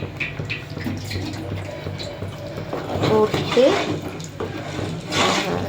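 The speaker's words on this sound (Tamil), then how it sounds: "புளி தண்ணி சேர்க்க போகிறோம்." Tamarind water is poured into a simmering vathal kulambu mixture in a home kitchen, making a soft, close splashing trickle that comes in short surges beneath a woman's speech.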